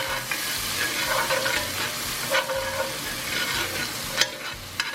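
Garlic sizzles in a hot pan on a grill while a utensil stirs it, giving a steady close crackling fry with brief scraping strokes and a small clack near the end.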